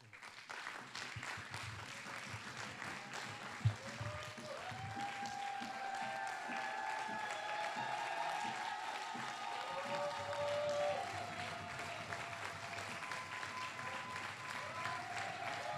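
Sustained audience applause fills a cultural awards ceremony hall, a dense, steady wash of clapping lasting throughout with one sharp louder clap near the start and faint crowd noise beneath.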